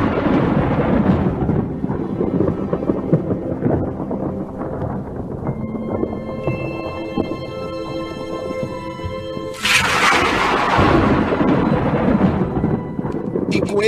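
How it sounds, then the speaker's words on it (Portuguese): Deep rolling thunder rumbles over steady heavy rain, with a sharp louder crack partway through, loud and close. "uma chuva pesada, uma chuva com relâmpagos e trovões."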